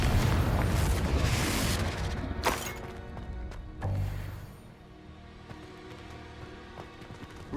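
Fire spell explosion from the Confringo curse in the video game Hogwarts Legacy, with loud crackling blasts early on, a sharp boom near the middle, then quieter rumbling game sounds.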